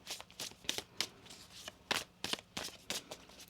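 Tarot cards being shuffled by hand in a series of quick papery riffles and slaps, close and fairly quiet, with irregular bursts roughly every half second.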